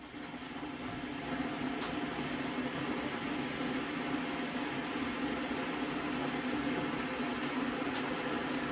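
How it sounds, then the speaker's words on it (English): An electric kettle roars steadily with a rushing, hissing boil, constant and close, with a faint clink or two. "I will just have to apologise for the kettle noise"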